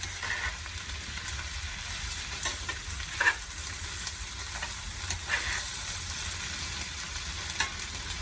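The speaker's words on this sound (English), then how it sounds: "start cooking this to get the potatoes brown and stuff before I start cooking the venison" Potatoes fry in butter in a pan for a deer hash cooked in a cabin, giving an even, close sizzle throughout. There are a few light stirring scrapes and no voices.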